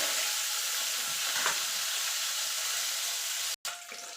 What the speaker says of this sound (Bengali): আমি দুবারে মাছগুলো ভেজে নেব